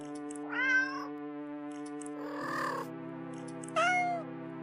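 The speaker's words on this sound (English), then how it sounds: "The sound of happy cats munching away at their fish fills your ears." In a video game, happy cats meow while munching fish: three separate meows spaced apart, the middle one rougher, over a steady electronic background drone, with no talking.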